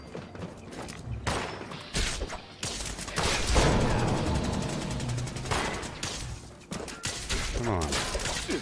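Gunfire in Fallout 76, rapid bursts and dense volleys of shots with thuds and clatter, loud and near, running through most of the stretch with brief lulls between bursts.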